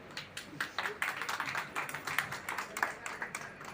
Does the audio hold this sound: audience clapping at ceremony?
yes